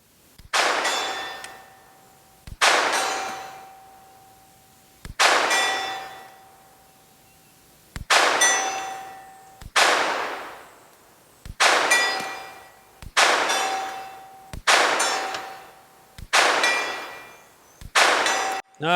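Ruger Mark IV pistol with Volquartsen custom parts fires about nine shots at a steel target, each a sharp crack followed at once by a ringing metallic clang that decays over a second or two, spaced roughly two seconds apart with no talk.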